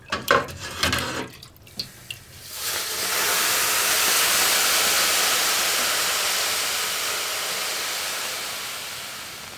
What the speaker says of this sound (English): loilu is the act of pouring the water onto the rocks. And it's also the experience of the water becoming steam